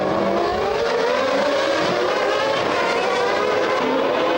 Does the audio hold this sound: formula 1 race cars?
yes